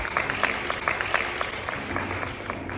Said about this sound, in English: can we please just give a round of applause for her